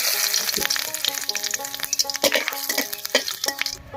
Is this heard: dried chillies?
yes